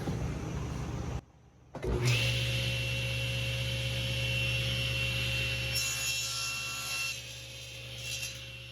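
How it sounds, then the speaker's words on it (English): A table saw cuts through a wooden pen blank, trimming off the excess: a brief gap, then the blade spins up into a loud, steady whine with a low hum that holds for several seconds before easing slightly. "we're just going to trim off that excess on the table saw"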